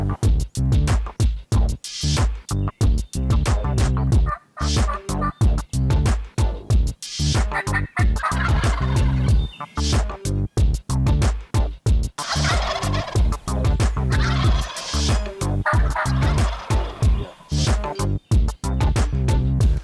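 Eastern wild turkey gobbling in the woods, loud and close, with a dense, rapid chorus of rattling gobbles and clucks continuing almost without pause.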